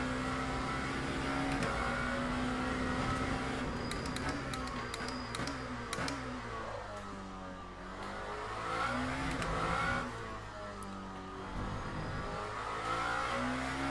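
Lamborghini hypercar lapping in the Le Mans Ultimate racing sim, its engine revving and shifting through gears in steady rising and falling sweeps, loud and continuous with brief dips as it brakes and accelerates again.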